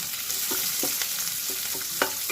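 Onion and garlic frying in oil for a tempering: a steady close sizzle with soft scraping stir strokes popping through at irregular moments.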